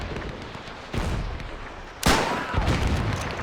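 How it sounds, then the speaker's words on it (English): Artillery shells land nearby in the WW1 game Between Empires as a few deep, booming impacts. The last and strongest one comes with a rushing whistle and fades into rumbling background noise. "So we'll have artillery shells coming quite close here."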